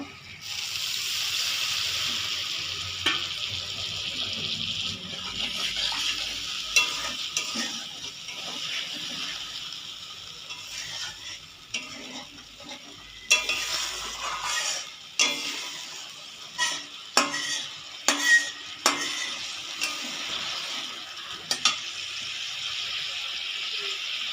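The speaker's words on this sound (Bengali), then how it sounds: "মশলাটা কষানো আমার হয়ে গেছে, এবার আমি জল দিয়ে দেবো" Water poured onto fried spice paste for a fish curry hisses and bubbles in the pan, followed by a run of scraping, clattering stirs near the end.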